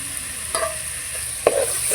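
Tomato pieces frying in a pan on a stove, a constant hiss of sizzling oil with two brief scraping stirs, close and moderately loud, no voices.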